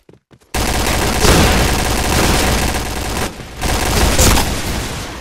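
Dense, loud automatic gunfire fills an online match of the shooter Point Blank, sustained bursts with a brief dip midway before the firing resumes, no talking.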